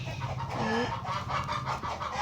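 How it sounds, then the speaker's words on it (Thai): Chickens in a dinosaur survival video game cluck and squawk repeatedly in short, rising calls, fairly close and clear against a soft background hum. "เสียงไก่ดังมาก"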